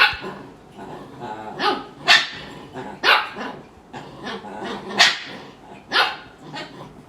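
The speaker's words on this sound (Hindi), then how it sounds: "डोरी तो बहुत भौंक रहे थे एक दूसरे पे" Several dogs bark back and forth in sharp bursts, roughly one bark every second, fairly close, with a few growly yips between.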